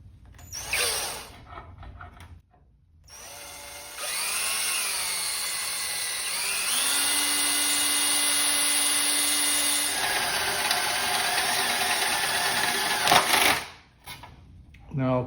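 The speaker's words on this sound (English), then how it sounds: "Drill a hole in it." A small drill bores a hole in a metal piece for a machinist's tool box, a steady high-pitched whine running for several seconds with a rising-and-falling pitch, close and fairly loud, with brief handling sounds before and after.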